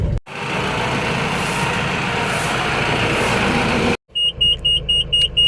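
A Mahindra Bolero's engine idling loudly and steadily as it is parked, cutting off abruptly, followed by a series of short repeated electronic beeps.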